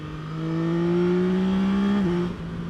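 A 2025 Yamaha Tracer 9 GT+ motorcycle engine revs up loud and close, its pitch climbing steadily before abruptly dropping back to a lower idle, with no talking.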